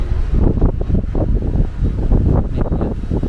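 Strong wind buffets the microphone in a continuous loud rumble, gusting unevenly throughout.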